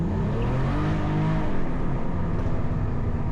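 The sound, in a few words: Cadillac CT4-V Blackwing accelerating hard up to 6,000 RPM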